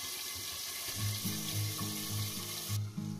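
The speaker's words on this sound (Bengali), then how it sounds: "মাছগুলো সব একসঙ্গে দিয়ে দিলাম বন্ধুরা, দিয়ে একটু ঢাকনা চাপা দেবো।" Tengra fish frying together in a pan, a close, steady sizzle with rhythmic bubbling pulses, moderately quiet, with no voices.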